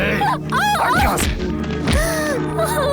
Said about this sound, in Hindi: प्रवीण, मत मारो इसे, छोड़ दो उसे।